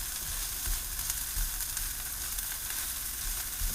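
Onions sizzle and fry steadily in a pan for lemon rice pilaf, giving a close, constant crackling hiss with faint stirring taps and no talk.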